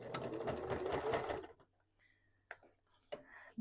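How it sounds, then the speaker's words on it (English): A sewing machine stitches sashing onto a scrappy quilt-as-you-go block, running in one steady, close burst of rapid needle strokes for about a second and a half, then going quiet apart from a few small handling clicks. "Now we're going to sew this on."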